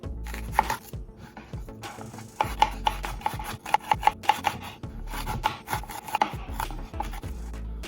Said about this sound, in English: Okay, we got our onions cut and we're ready to move on.